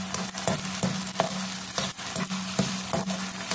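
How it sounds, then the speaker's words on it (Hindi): Peas and onions stirred and frying in a pan for crushed paneer masala, a steady close sizzle broken by regular scraping strokes of a spoon roughly every half second, with no talk. "ऐसे इसको चलाते हुए पकाना है ताकि ये प्याज है वो ना लगे"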